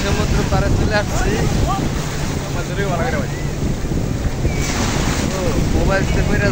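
Sea waves wash onto a beach at Cox's Bazar under strong wind buffeting the microphone, a loud continuous roar and rush, with voices faintly audible in the background.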